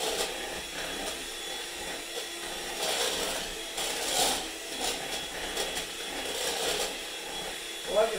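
A whisk works through mashed potatoes in a bowl, producing a soft, repeated scraping and rubbing with irregular strokes that swell and fade, continuous and fairly close.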